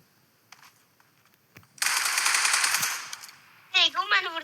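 Rapid automatic gunfire from a competitive online shooter match, a loud sustained burst lasting over a second after a few quieter shots, followed by a voice reacting.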